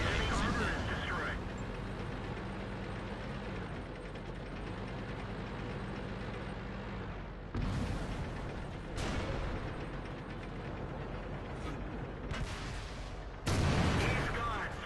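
Heavy tank cannon shots in World of Tanks, a few loud broadband blasts spaced several seconds apart over a droning engine rumble, with people talking in between.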